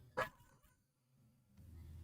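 Indoors at home, a dog gives one short, sharp bark, then the room falls back to quiet low background noise.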